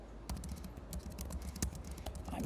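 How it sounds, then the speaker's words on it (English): Numbers are typed on a computer keyboard in quick, irregular clicks and taps, fairly faint and close, with no talking. "I'm typing in random numbers for you."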